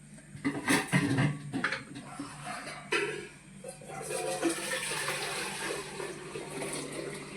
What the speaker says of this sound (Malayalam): ചോറ് ഊറ്റാൻ പോവാം.